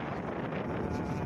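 Strong wind under rough, low-pressure weather near Bicol in the Philippines buffets the microphone with a constant, loud, rumbling rush, with no break throughout the short moment.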